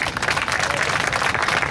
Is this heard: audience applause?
yes